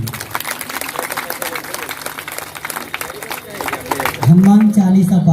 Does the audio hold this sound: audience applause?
yes